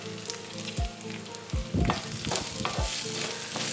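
Onion frying in hot oil with ginger-garlic paste for a squid thokku, a steady loud sizzle broken by several sharp thumps of a spoon stirring against the pan.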